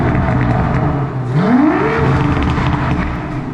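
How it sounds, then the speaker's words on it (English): An Aston Martin V12 Vantage Roadster engine cold-starts and revs hard, a loud rising roar that settles into a high, steady idle close by. "I want to hear the beautiful sound. Ooh, it is a kind of a cold start."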